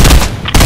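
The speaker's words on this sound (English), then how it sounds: "Getting shot at." Burst of gunfire in the video game Fortnite, a loud dense rattle of shots that briefly dips and then resumes, heard without talk.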